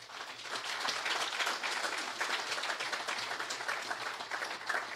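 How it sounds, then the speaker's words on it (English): A hearty round of applause from a community gathering honoring a committee, dense steady clapping from many hands filling the room at a constant level with no talk. "a hearty round of applause"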